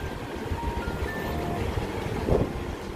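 Steady wind rushes across the microphone outdoors in Hong Kong's Chater Garden in the city centre under an overcast, humid sky, forming a constant broadband roar with a slightly stronger gust near the end and no voices.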